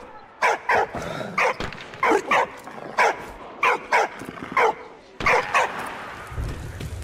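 A dog barks in the video game Valiant Hearts, a series of sharp, loud barks, mostly in pairs, spaced across several seconds with faint background sound between.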